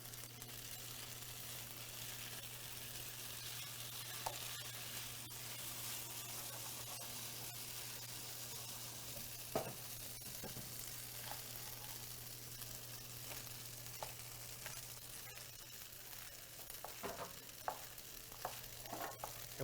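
Tofu and vegetable fried rice sizzles steadily in a pan on an induction cooktop, a constant frying hiss with occasional stirring clicks and scrapes, no talking.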